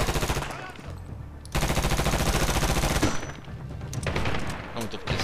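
Rapid machine-gun fire in Medal of Honor during house-to-house fighting in Gardez, with fast rhythmic bursts stuttering in and out and cutting off abruptly, loud and close, while a voice talks faintly underneath.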